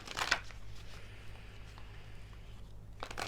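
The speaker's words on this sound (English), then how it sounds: "I'm just giving the cards a few more shuffles here." Cards from an Osho Zen Tarot deck are shuffled close by in two short riffling bursts, one at the start and one at the end, with a quiet pause between.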